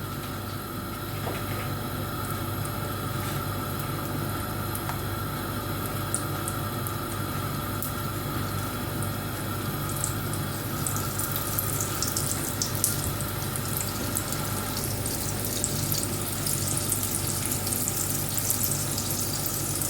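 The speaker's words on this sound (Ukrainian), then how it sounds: "на розігріту сковороду викладаємо наші пиріжечки" Cabbage-filled pies laid into a heated frying pan give off a steady, even hiss of hot oil, growing slightly brighter and crackly toward the end, with no one talking.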